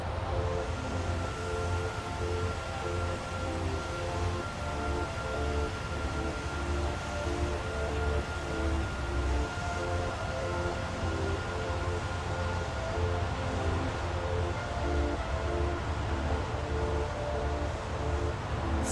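Boeing 767 with GE engines in the X-Plane 11 flight simulator gives a steady, broadband engine roar with low humming tones, continuous and even in level throughout, with no talking over it.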